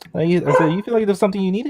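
A person voices dog-like woofs, a short run of barky yelps mixed in with casual talk on a podcast.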